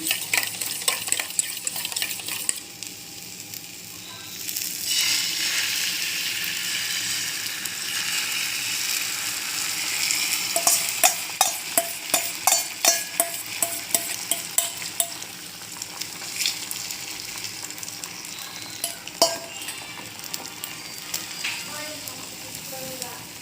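Food frying in refined oil in a pan during an egg recipe, a steady loud sizzle running throughout, joined partway by quick clattering stirs and scrapes of a utensil against the pan.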